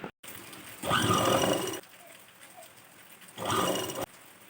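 A sewing machine stitching around the back neckline of a churidar top runs in two short bursts of steady, buzzing whir, with quieter pauses between them.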